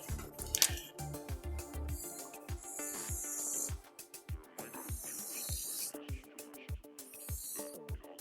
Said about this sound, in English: Alright, we're going to go with the scissors.